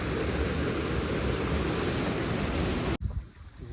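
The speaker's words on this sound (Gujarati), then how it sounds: "જબ્બર પાણી જાય." Loud, continuous rush of a natural stream near Jatashankar temple, Junagadh, fills the scene, then cuts off abruptly near the end, leaving a quieter background.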